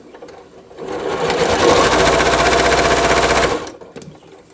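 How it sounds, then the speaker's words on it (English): A sewing machine joins a corner piece and a half-square triangle for a quilt block, with a single rapid, loud stitching run of about two and a half seconds that starts and stops with soft handling noises on either side. "I'm going to sew these two together"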